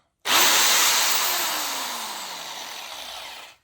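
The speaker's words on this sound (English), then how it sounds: "here we have my mains powered drill" A mains-powered electric drill whirs at high speed, starting abruptly and winding down slowly over a few seconds, close and loud.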